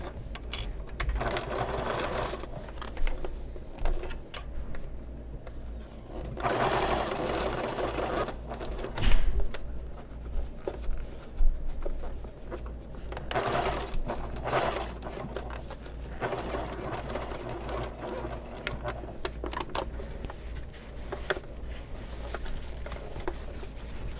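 A sewing machine stitches a bag seam at a three-quarter-inch allowance, running in long steady bursts with brief pauses where the fabric pivots, loud and close throughout.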